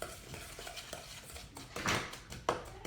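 Ingredients including brown sugar being stirred together in a bowl, a quiet, close scraping and clinking of a utensil against the bowl in an irregular rhythm, with no talking.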